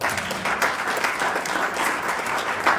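A church congregation applauds steadily, a dense even wash of many hands clapping together with faint crowd voices mixed underneath.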